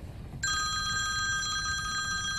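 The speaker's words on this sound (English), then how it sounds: "don't answer that damn phone." A telephone rings with a bright electronic trill that starts abruptly and continues steadily, loud and close, over a low rumbling background.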